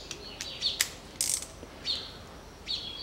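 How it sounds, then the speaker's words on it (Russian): A ratchet driver with a Torx T25 bit backs out self-tapping screws around the inside door panel of a 2013 Range Rover Evoque 2.2, giving short bursts of light, quick clicking with pauses between, fairly close and with no talking. "Откручиваем по периметру все винты."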